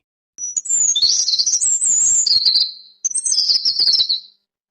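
An animated bird perched in a large tree on a high mountain sings bright, high chirping phrases in two close, clear bursts separated by a short pause.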